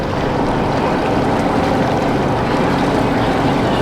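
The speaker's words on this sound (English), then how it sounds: "I can actually hear the ferry boats" Ferry boats running along the water route to Magic Kingdom near Disney's Wilderness Lodge at Walt Disney World, heard as a steady, continuous engine and water wash that stays at an even level throughout, with no talk over it.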